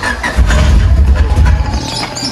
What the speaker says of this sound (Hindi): गाड़ी बंद हुई, बिस्मिल्लाह करके दोबारा, काफ़ी टाइम बाद स्टार्ट कर रहा हूँ